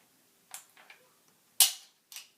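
An M1 Garand rifle has its clip button pressed and bolt worked, a few sharp close metallic clacks and clicks, the loudest a hard snap near the end, with quiet between.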